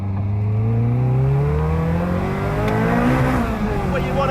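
A Caterham Seven 620S engine pulls hard under acceleration, its rising drone climbing steadily in pitch, loud and close, with a brief dip as the throttle eases before it surges again; a voice can be heard over the engine noise.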